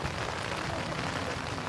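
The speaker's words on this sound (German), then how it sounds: "der Regen macht dich sonst ganz nass" Continuous dense patter of rain, steady and fairly loud throughout with no talking.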